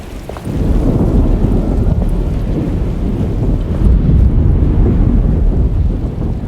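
A thunderstorm in the video game Alone in the Dark: a steady, loud wash of heavy rain and low rumbling thunder that fills the scene without a break, with no voices over it.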